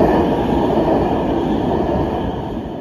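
An elevated metro train in Rotterdam rumbles past on its line, a loud, steady roar of wheels and cars that eases off slightly toward the end, with no voices.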